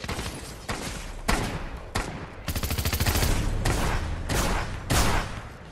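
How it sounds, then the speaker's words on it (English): Shotgun blasts in the game Fortnite: loud, close booming shots, several spaced single blasts with a fast rattling burst in the middle, and no talking. "I'm gonna blast them with a shotgun."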